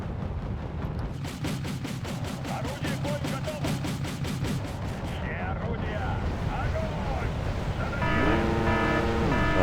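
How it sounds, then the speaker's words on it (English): Artillery fire in the video game Wargame: European Escalation, a run of rapid, evenly spaced blasts followed by rumbling impacts and a rising mechanical drone, steady and fairly loud throughout. "We could also get out a heavier artillery piece"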